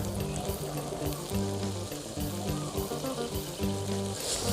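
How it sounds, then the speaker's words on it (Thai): Silkworm pupae frying in hot oil over medium heat, a loud, close, continuous bubbling sizzle with a busy crackling texture that stays steady throughout, with no speech. "พอน้ำมันเดือดแล้วก็นำหนอนไหมลงไปทอดค่ะ"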